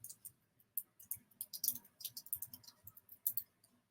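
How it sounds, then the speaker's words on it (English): Rapid irregular clicking of keys on a computer keyboard as a short note is typed, close and fairly quiet, with bursts of taps and brief pauses, no talking. "I'm just going to type a note to my research manager to make sure this is"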